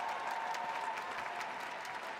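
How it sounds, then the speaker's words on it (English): Sustained applause from a graduation ceremony audience for Master of Science in Public Policy and Management graduates at Heinz College, a dense, even wash of many people clapping, with a faint tone running underneath. "Please join me in a round of applause for the graduates of the Master of Science in Public Policy and Management Washington, D.C. track."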